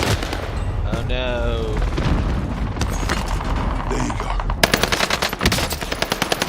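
Video game gunfire rattles in rapid automatic bursts, growing sharper and louder toward the end, with people talking over it.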